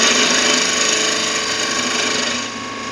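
A wood lathe spinning while a detail gouge cuts a small Christmas tree shape gives a loud, steady whirring hum with a faint rhythmic flutter, easing slightly toward the end.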